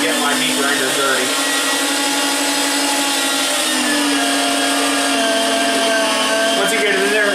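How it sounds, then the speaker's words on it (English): An electric meat grinder churns pork with a loud, steady whine that hums on without a break throughout. "I opted just to get my meat grinder dirty"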